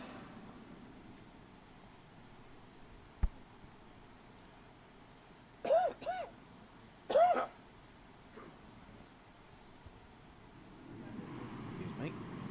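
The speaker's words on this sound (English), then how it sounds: "Taking a moment for the curler's cough." A curler coughs during a junior mixed doubles curling championship broadcast, two short, close, muffled bursts a second or so apart against a quiet background hush.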